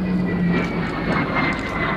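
Steady, loud roar of a first-generation jet aircraft engine at the Midlands Air Festival, a broad continuous rumble with a faint whine, heard alone without talk.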